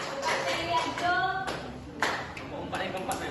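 Scattered classroom clapping for a student group about to perform, several short bursts of hand claps at close range, heard alongside talking voices.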